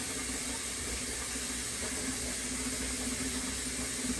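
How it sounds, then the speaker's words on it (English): Cold tap water runs steadily into a pot in a home kitchen to soak salt fish for ackee and saltfish, a continuous close hiss and splash without pause and no talking. "So I'll just put some cold water in there like this."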